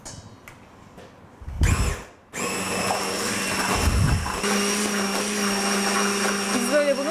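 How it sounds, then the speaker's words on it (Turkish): An electric mixer whisks a custard-style pudding mixture in a bowl, starting with a few short bursts before settling into a loud, steady whirr that runs to the end. "Şimdi ben bunu çırpacağım."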